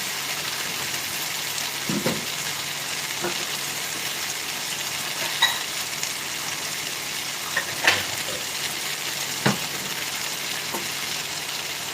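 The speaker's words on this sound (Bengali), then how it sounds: "এবার আমি এর মধ্যে একটুখানি গরম জল অ্যাড করবো" Cauliflower and potatoes fry in a pan as a little hot water is added, giving a steady, even sizzle with a few soft clinks and taps scattered throughout.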